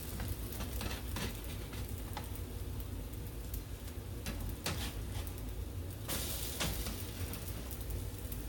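French toast just flipped in a pan, frying with a soft, even sizzle that runs steadily throughout, faint and close, with a few light crackles and no talking.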